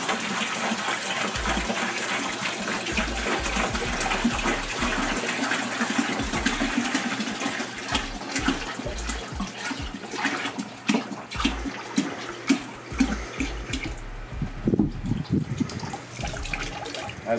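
Coolant being poured from a container into a clean bucket for a 50-50 mix during a Lexus LS400 timing belt job, a steady gushing and splashing pour with irregular glugs that stays fairly loud throughout, with no talking.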